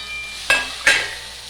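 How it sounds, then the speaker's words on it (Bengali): Fried potato and eggplant stir-fried together in a pan for a dried fish curry, two quick scraping stirs over a steady sizzle, close and without talk. "দিয়ে একটুখানি কষিয়ে নেব।"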